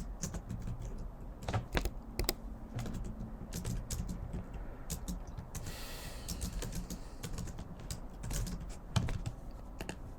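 Continuous typing on a computer keyboard while writing code for a programming exercise, a steady stream of close clicks with sharper louder keystrokes scattered throughout, over a low background hum and no voices.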